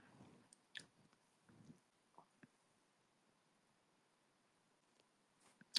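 Crispy pastry being bitten and chewed close up: a few sharp, crackly crunches spaced out over quiet moments, with a louder crisp bite at the end.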